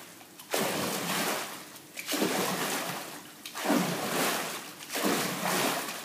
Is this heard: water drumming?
yes